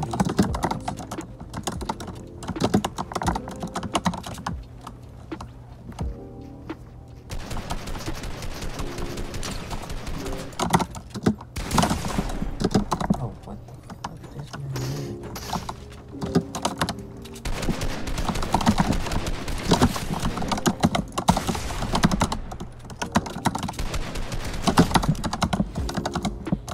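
Rapid, steady clacking of a Razer Huntsman TE keyboard during a Fortnite match on an Xbox Series S setup, dense continuous keystrokes close up with game sounds mixed underneath.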